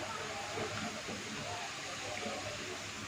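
Bhatura dough slipped into hot oil for chole bhature, giving a steady, close sizzle and hiss of deep frying that runs without pause, with faint bubbling texture throughout.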